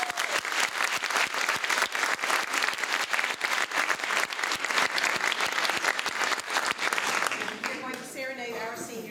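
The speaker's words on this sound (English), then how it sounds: "Let's give them a rousing applause." An audience claps steadily and loudly for several seconds after a choir performance, the applause thinning at the end as voices begin talking.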